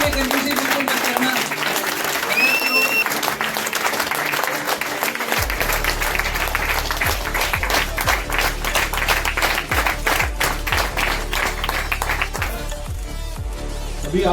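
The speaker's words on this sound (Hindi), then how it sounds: "तो ताली में कंजूसी बिल्कुल मत करना।" Audience at a crypto coin seminar in Sonipat bursts into sustained, loud applause and clapping that fills the room, with some cheering voices mixed in throughout.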